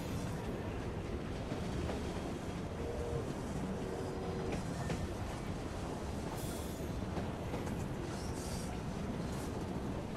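A train rolls steadily along its rails during a train robbery community event in a video game, a continuous broadband rumble with faint wheel squeals and clatter, no voices.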